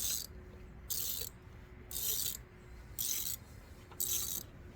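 A ratchet wrench clicks as it turns a spark plug in the engine of a 2003 Chevrolet Trailblazer, four evenly spaced bursts of rapid, close ratcheting separated by short quiet pauses.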